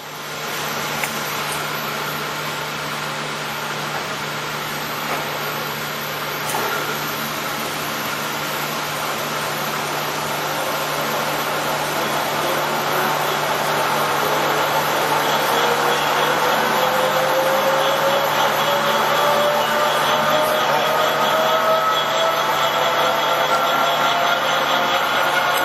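Polamco 18x80 gap lathe running steadily at 1120 RPM, a continuous broadband mechanical whir with a low hum that grows slightly louder and develops a faint rising whine partway through, with no talking.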